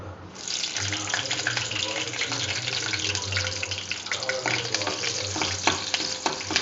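Green chillies fry in hot oil in a pan with a continuous close crackling sizzle, broken now and then by the clatter of stirring.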